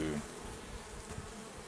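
Honey bees buzzing around a Layens hive, a close, steady drone that continues throughout the short clip.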